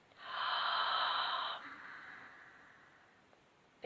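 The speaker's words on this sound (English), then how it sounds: "Then you can try and do it on the inhale." A slow ujjayi inhale drawn through the throat, a close, steady rasping hiss lasting over a second before easing into softer, quieter breathing.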